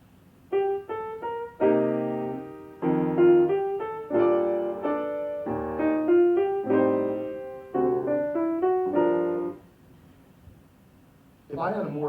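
A jazz standard played on a keyboard in a beginner improvisation lesson: sustained chords and melody in phrases of several notes, steady and close for about ten seconds, then a pause and a brief voice at the end.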